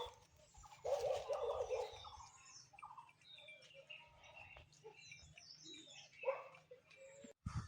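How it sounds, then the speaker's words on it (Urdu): Outdoor village birdsong with several sparrows chirping and tweeting at varied pitches, a busier burst early on, over a low steady background hum. "یہاں پہ آپ چڑیوں کی مختلف بولیاں سن سکتے ہیں"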